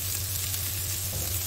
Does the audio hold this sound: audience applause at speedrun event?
no